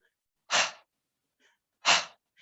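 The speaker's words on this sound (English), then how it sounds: "we're going to take about 10 rounds of breath of fire in and out of the mouth, just so that you can feel that panting feeling" Two sharp, forceful panting exhales from the mouth in yoga breath of fire, close and isolated, about a second and a half apart, with faint breathing between them.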